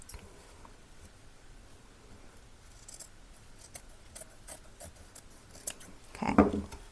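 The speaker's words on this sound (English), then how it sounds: "let's cut off the other side" Scissors cutting a thrifted item being turned into a spring wall pocket, faint scattered snips building to a louder, close crunching cut near the end, with no talking.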